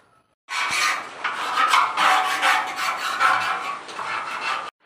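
A tool scrapes concrete off formwork spans, giving loud, rasping strokes that run back and forth in a steady rhythm close by, with brief pauses between passes and no talking.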